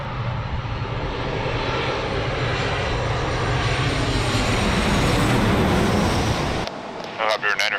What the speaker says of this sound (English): a 738 coming in from Norfolk.